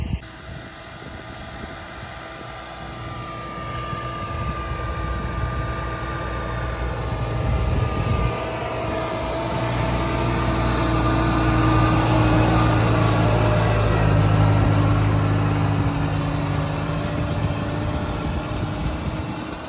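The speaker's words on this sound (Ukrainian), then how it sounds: "як працює сам трактор з оприскувачем Е" A steady engine drone runs throughout with harmonic hum, swelling slightly in the middle, from a tractor working a field nearby with an attached 14-metre-wide sprayer.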